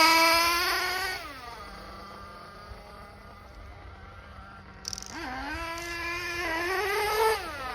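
Nitro engine of a Hobao Hyper VT RC buggy, running rich just after start-up, idling with a buzzing harmonic whine that revs up briefly, drops to a low steady idle, then revs again near the mic.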